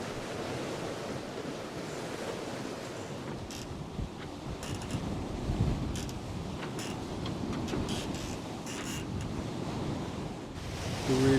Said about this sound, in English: So the waves will be against us for another 10 minutes.